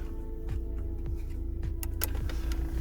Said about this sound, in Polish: włączymy sobie nawiew cały, bo się uwędzimy w tym samochodzie